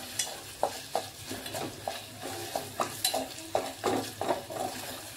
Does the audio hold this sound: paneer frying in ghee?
yes